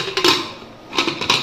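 Metal pot set down on a gas stove in a home kitchen to boil: two clusters of sharp metallic clanks and scrapes, close and moderately loud, with a quiet gap between them.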